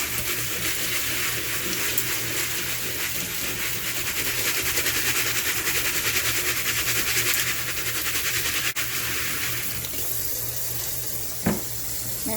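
Rice is rinsed in a bowl under a running tap, a steady, close hiss of water with faint swishing and a brief clink near the end.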